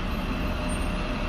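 Heavy road traffic of loud trucks roars continuously, a deep rumbling wash of engine noise from large vehicles passing close by, with no pauses.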